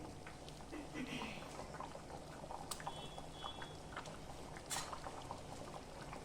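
Bhangar fish curry broth simmers in a pan with a faint, steady bubbling and occasional soft pops, heard quietly and close by.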